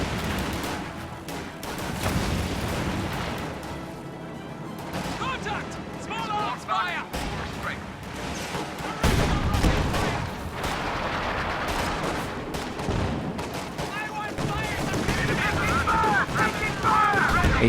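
Anti-tank gun shots and scattered gunfire in a World War II real-time strategy game, with a Panzer II advancing. Bursts of weapon fire and explosions repeat through a dense, busy battle mix, with a commentator talking over it.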